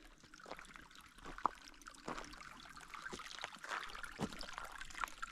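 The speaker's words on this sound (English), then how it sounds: "It's a nice pipe spring, flowing good" Water from a pipe spring at the Pass Mountain shelter in Shenandoah pours and trickles steadily, faint and close, with small splashes and drips over a soft outdoor background.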